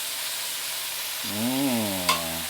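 Prawns frying and charring in a pan with sweet and sour sauce, a steady close sizzle throughout, with a voice humming briefly over it.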